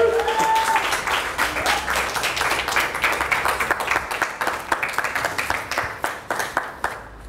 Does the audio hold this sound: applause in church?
yes